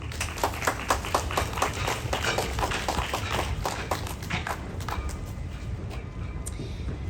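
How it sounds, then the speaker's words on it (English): An audience applauds at a community event raising awareness for child abuse prevention, the dense clapping steady and close for several seconds before thinning out toward the end. "give one more round of applause for him sharing his courageous story with us"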